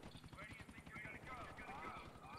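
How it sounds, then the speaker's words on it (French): Helicopter in the video game GTA IV, a quiet rhythmic rotor chop pulsing steadily under a voice talking over it, faint and distant-sounding. "Putain, y a un hélico."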